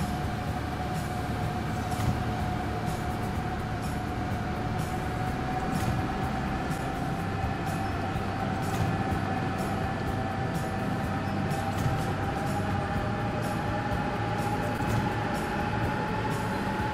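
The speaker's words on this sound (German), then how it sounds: "Lass mal erstmal die U-Bahn fahren." A subway train in the Transport Fever 2 video game hums steadily with a sustained tonal whine and a rolling rumble throughout, constant and fairly loud.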